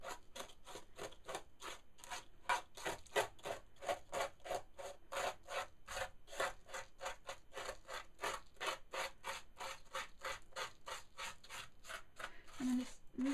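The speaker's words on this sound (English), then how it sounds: "So you can rub it lightly with your finger." Dried salt rubbed off watercolour paper with a fingertip, a regular series of quick scratchy strokes at close range, each stroke distinct, carrying on throughout with brief faint sounds near the end.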